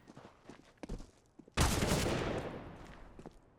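Gunfire from the video game Counter-Strike: Global Offensive on the Dust2 map, where scattered footsteps and light taps lead into a sudden loud burst of shots that rings and fades over the next two seconds.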